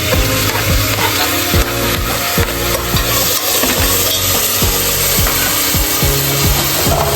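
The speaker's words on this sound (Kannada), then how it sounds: "ಎಲ್ಲ ಥರ ಹಾಕಿ ಮಿಕ್ಸ್ ಮಾಡೀನಿ" Vegetables including tomato, carrot and radish frying in a pan, stirred with steady scraping strokes over a constant sizzle, close and loud with no talking.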